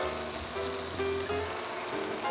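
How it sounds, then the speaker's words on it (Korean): Oyster pancake with zucchini frying in a pan, a steady close sizzle and crackle that holds throughout with no talk. "지글지글, 재글재글 하면서."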